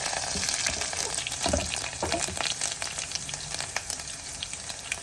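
Onions and garlic fry in hot oil for a dal tempering, giving a dense, continuous sizzle with occasional stirring scrapes, close and loud, with no talking.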